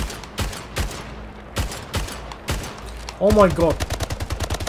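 Single-shot gunfire in the portal shooter Splitgate, sharp isolated bangs spaced unevenly and then a faster burst of rapid shots, loud and close, with a man exclaiming briefly over the firing.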